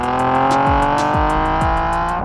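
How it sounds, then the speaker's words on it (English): Nissan 370Z Nismo exhaust roaring loud and close, with repeated rising revs as the car accelerates through gear changes, steady and continuous with no talk. "capture the epic exhaust note of our 370Z Nismo"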